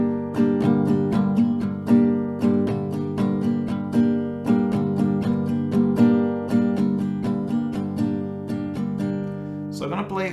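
An acoustic guitar strums the rhythm pattern of a song in steady down and up strokes, close and clear with ringing chords, ending with a short scrape.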